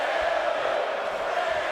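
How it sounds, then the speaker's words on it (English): Capacity crowd in the WWE 2K24 wrestling game cheering for Bray Wyatt, a brief, continuous, even roar of many voices. "So this capacity crowd well and truly behind Bray Wyatt"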